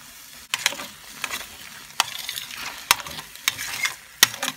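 A spoon stirs fried mushrooms with sour cream in a pan, giving a series of sharp scraping strokes at an uneven rhythm over a soft background sizzle.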